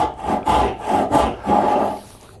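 A hand saw cuts wood for a half lap joint, with rhythmic rasping strokes about every half second, close and clear with no talk.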